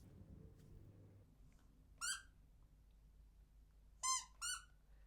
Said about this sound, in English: Now this monkey's got a squeak. You're supposed to be able to press its chest and it does like a squeak.